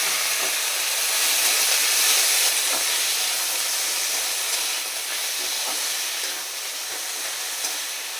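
Kalai greens go into a pan of potatoes fried with kalo jeera and chilli, producing a loud continuous steamy sizzle and hiss that eases slightly toward the end, with faint scrapes.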